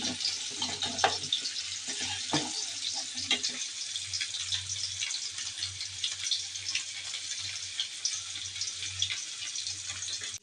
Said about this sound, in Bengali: এক চুলা মাছ ভেজে নিচ্ছি, আর এক চুলা দিয়ে পায়েসটা রান্না করছি।